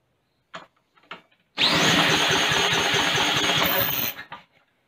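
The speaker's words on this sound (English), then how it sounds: "you would have heard a little bit of a buzz at the end from when I stopped the drill and the mower was still spinning down" Lawn mower engine spun by a cordless drill until it catches, a loud steady buzzing roar lasting a few seconds after faint clicks, then dropping off quickly as it spins down.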